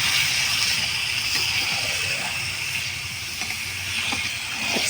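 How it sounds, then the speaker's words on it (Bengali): Chicken frying in spice masala in a pan over a wood fire, a continuous sizzling hiss close by with faint scraping stirs now and then, no talking. "এবার চিকেনটা ভালো করে কষে নেব আমি।"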